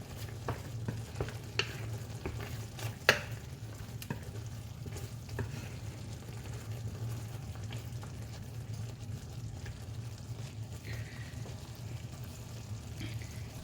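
Ginataang gulay with mushrooms is stirred in a pan, a low steady simmer broken by scraping and clinking of the utensil against the pan, sharpest in the first few seconds.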